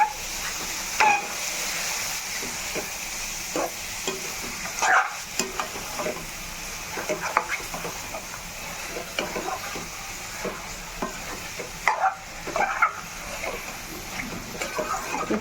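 Goat tripe (boti) curry stirred with masala in hot oil, giving a steady sizzling hiss broken by repeated scraping and stirring knocks from the pan throughout.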